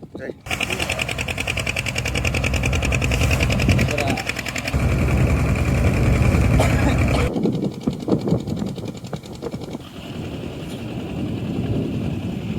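A fishing boat's engine running at a steady, loud, close drone on a river outing to check nets, with its buzzing tone shifting partway through and people talking over it.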